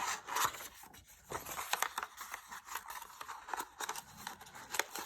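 Sticky tape is pulled, handled and looped, giving close crinkling, rubbing and tearing rustles in uneven bursts, fairly quiet, with no one speaking.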